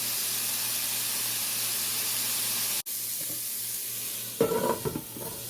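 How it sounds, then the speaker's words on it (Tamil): Asparagus sautéing with salt in a pan gives a steady, close hiss, broken by a brief drop midway, then a few louder stirring scrapes near the end. "தேவையான அளவு உப்பு சேர்த்து வதங்க விடுவோம்."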